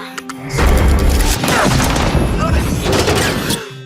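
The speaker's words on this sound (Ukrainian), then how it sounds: "Гремлять гармати" Heavy booming artillery fire roars in a dense, sustained barrage, loud and close, with sharp cracks layered over a deep rumble.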